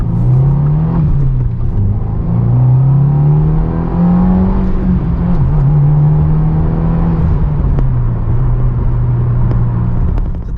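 A 2023 Subaru WRX with a manual gearbox accelerates from inside the cabin, its engine droning and rising in pitch through gear changes, a loud steady rumble with no talk.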